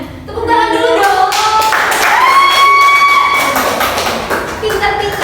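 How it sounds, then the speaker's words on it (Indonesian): Schoolchildren in a classroom clapping during a lesson, a loud continuous patter of small hands mixed with excited children's voices and shouting throughout. "Tepuk tangan dulu dong"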